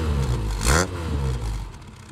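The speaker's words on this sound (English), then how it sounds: "Let's have a listen to that exhaust note there." A 1983 Triumph Acclaim HL engine revs up briefly, a rising burst of exhaust roar over a steady low idle rumble, close by.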